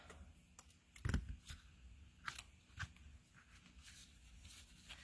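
Scissors snip through card to trim about an inch off for an easel card, a few quiet, sharp cuts spaced irregularly, with soft handling noises between them.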